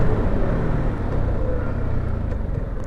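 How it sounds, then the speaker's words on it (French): Yamaha XSR 125 motorcycle engine while riding, a steady low droning rumble mixed with wind rush that holds throughout, without clear revving changes. "Pour un moteur qui crache ses tripes comme ça,"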